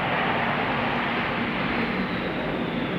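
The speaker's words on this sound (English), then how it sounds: "I think that was more of like a military jet or something like that." A military jet passes over Arlington near DCA Airport along the Potomac, a steady loud broadband roar that fills the whole moment with no break and no voices.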